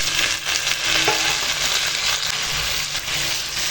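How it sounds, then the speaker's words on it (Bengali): Washed, drained mutton and tomato hitting a pan of lightly fried onions, giving a loud, continuous close-up sizzle with occasional stirring scrapes and no talking. "এখন দিয়ে দেব এই যে ধুয়ে পরিষ্কার করে রাখা জল ঝরানো মাংস আর টমেটো"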